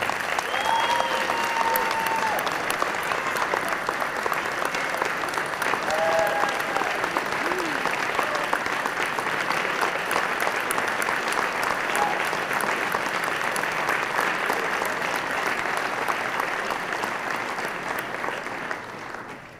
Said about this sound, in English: A big round of applause for Miriam Adelson.